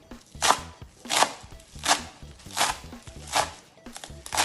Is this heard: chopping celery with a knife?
yes